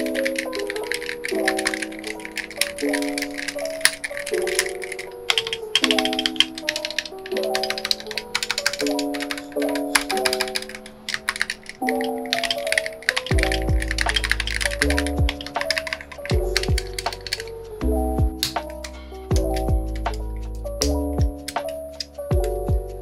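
Rapid, steady key clicks from typing on an XVX G75 magnetic keyboard, close and crisp, running throughout with background music playing underneath.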